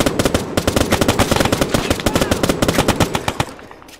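Rapid bursts of automatic gunfire in a WWII combat video game set during the Battle of Salerno, loud and close, dozens of sharp shots in a steady rattling rhythm that thins out near the end.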